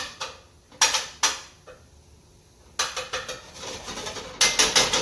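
A utensil mashes Tuscan sausage in a metal pan for pasta sauce, giving sharp scraping clanks in uneven clusters, a few isolated knocks followed by a quicker run of repeated hits, close and clear with no talking.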